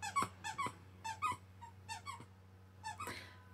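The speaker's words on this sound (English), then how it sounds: "Stop squeaking." A pet gives repeated high squeaks in short bursts, about eight across a few seconds, fairly close and clear over a low steady hum, with no talking.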